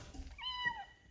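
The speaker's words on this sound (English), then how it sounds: "She's our shop cat" Millie, a shop cat named after Milwaukee, gives a single clear meow with a rising and falling tone at close range. Quiet background sounds sit underneath.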